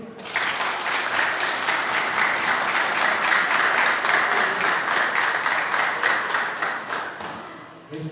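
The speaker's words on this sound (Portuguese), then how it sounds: "Uma salva de palmas para todas as mães nesse dia de hoje." A church congregation applauds for mothers on Mother's Day, sustained crowd clapping that swells quickly and holds steady before tapering near the end, with faint talk underneath.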